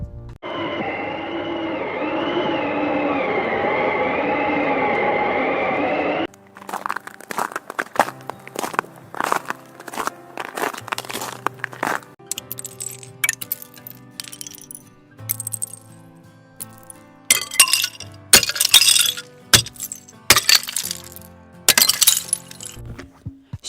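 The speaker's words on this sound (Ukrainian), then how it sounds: "Щойно ви прослухали звуки заметілі, бурульок, тріск у льоду та скрипу снігу." Winter sounds play in sequence: a steady roaring blizzard wind for several seconds, then glassy tinkling of icicles, sharp cracks of ice and crunching, creaking snow in irregular bursts.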